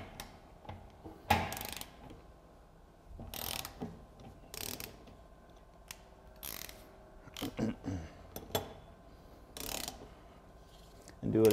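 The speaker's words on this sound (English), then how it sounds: "We'll remove that bolt." A ratchet wrench removes a bolt from a clamped joint during torque testing, giving several bursts of quick ratcheting clicks with short pauses between, close and fairly loud.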